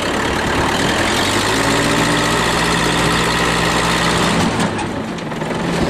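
A jeep with a worn 2.8 engine idles steadily and loudly up close while its exhaust is adjusted, a constant low rumble with a slight shift in tone near the end.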